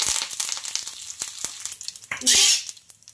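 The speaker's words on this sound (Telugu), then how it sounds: "కరివేపాకు కూడా వేసుకోవాలి." Curry leaves dropped into a hot oil tempering of urad dal, cumin, mustard seeds and dried red chillies give a sudden loud sizzling burst after a stretch of softer crackling and clinks, with no voice over it.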